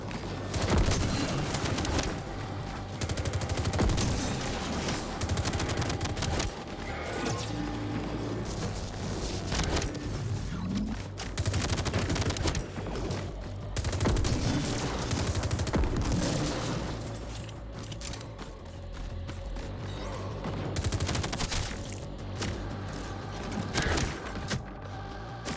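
Gunfire in the first-person shooter Metal Eden: dense, rapid bursts of shots and mechanical clatter run almost nonstop at full loudness, with brief dips between volleys.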